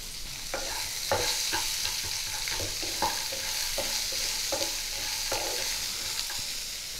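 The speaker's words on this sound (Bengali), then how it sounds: "কুচিয়ে নেওয়া পেঁয়াজগুলো দিয়ে দিচ্ছি।" Chopped onions tossed into hot oil in a pan with fried bori for bitter gourd chorchori, giving a steady sizzle with repeated scraping stirs at a roughly even rhythm, close and clear with no talking.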